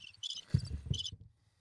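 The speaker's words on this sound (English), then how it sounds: "You got the crickets." Crickets chirping in short bursts, two or three bright pulsed trills close by in a quiet setting, with a brief low thump between them.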